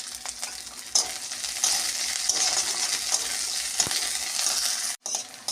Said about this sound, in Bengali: আদা রসুনটা ভাজা ভাজা হয়ে গেছে